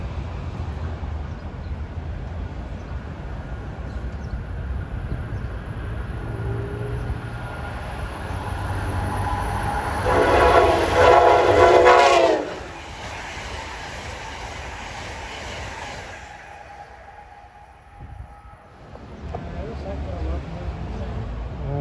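A train on the Northeast Corridor between New York and DC, at Linden, New Jersey, rumbles past with a steady roar that swells into a loud, bright burst of wheel and rail noise before fading, while someone talks over it.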